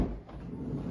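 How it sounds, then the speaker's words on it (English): Toyota Sienna minivan sliding door being pushed shut by hand, a brief dull thud and rumble close by with no talking. "Close the door."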